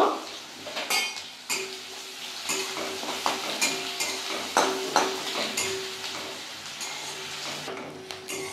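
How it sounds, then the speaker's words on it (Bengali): Onions fry in a pan until brown, a steady low sizzle under repeated metallic scrapes and clinks of a spatula stirring, close and continuous with no talk. "এই পেঁয়াজগুলো আমি বাদামি কালার করে ভেজে নেব"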